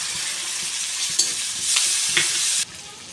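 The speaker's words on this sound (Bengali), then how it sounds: "আমি এই তেলের মধ্যে পেঁয়াজ দিয়ে দিলাম আমার ভাজা হয়ে গেছে আমি এখানে আদা রসুন আর লঙ্কা বাটা দিয়ে দিলাম" Ginger, garlic and chili paste fries with onions in oil in a home kitchen, a dense, close sizzle broken by stirring scrapes. It swells louder near the middle, then drops off abruptly.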